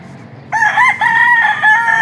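Pet chickens close by, a rooster crowing loudly in a rising, wavering call that starts abruptly and carries to the end, over a low background murmur of other fowl.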